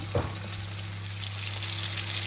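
Tomato cooking in a pan for Filipino pork adobo, a steady sizzle and frying hiss after a brief clatter at the start, continuing evenly at close range.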